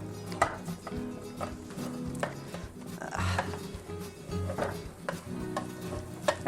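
A Spanish tortilla slides back into a hot pan with soft scrapes, stirring taps and a low sizzle, close and fairly quiet.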